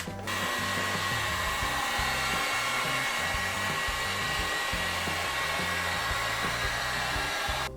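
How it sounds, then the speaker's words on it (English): A heat gun sealing craft foam blows with a loud, steady, close whooshing roar that runs unbroken from start to finish. "I'm going to use a heat gun to seal my foam"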